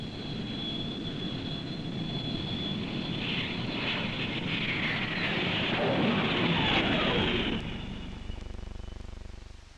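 An aircraft making a mat landing at Edwards Air Force Base roars steadily at a distance, its engine drone swelling and then easing off as it touches down.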